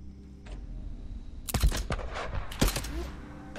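In the video game Days Gone, after a quiet low hum, a cluster of sharp gunshots breaks out, loud and irregular, with a couple of heavier blasts among them.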